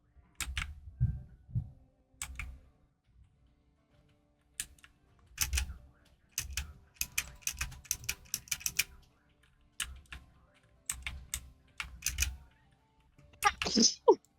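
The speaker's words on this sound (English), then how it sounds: "A massive sneeze." A massive sneeze bursts out near the end after a long run of scattered clicks and taps, sharp and close, with no talking during it.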